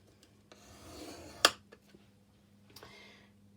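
Paper being scored on a scoring board for a chocolate box, giving soft rubbing strokes with one sharp scrape and a few small taps, close and quiet with no talking.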